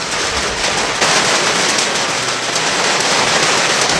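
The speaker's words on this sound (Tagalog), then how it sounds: "Umuulan naman ngayon." Steady rain pours down outdoors, a dense continuous hiss of drops hitting surfaces, loud and close with no voices over it.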